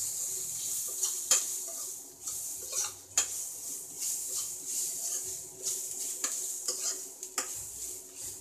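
A spoon stirs coriander powder and other spices into onions frying in a pan for besan pyaaz sabji, giving soft irregular scrapes and clinks over a faint steady sizzle, close by and fairly quiet.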